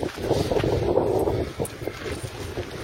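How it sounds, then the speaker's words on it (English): Strong wind batters the microphone high up by the sea, a loud continuous roaring gust with buffeting bursts and no voices. "It gets fucking windy up here, mate. When it gets windy, it gets windy."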